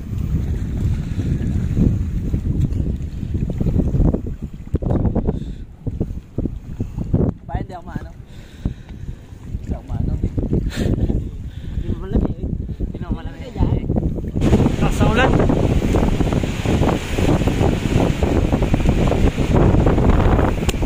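Strong wind and rain sweep across floodwater during a crab and shrimp catch, a steady loud roar with buffeting gusts on the microphone, while people talk throughout.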